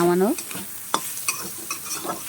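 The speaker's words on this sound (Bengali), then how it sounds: "এবার আমি চিংড়ি মাছটাকে ভালো করে নাড়াচাড়া দেবো" A spatula scrapes and stirs through shrimp sizzling in a hot pan, with a few sharp clinks against the metal over a steady frying hiss.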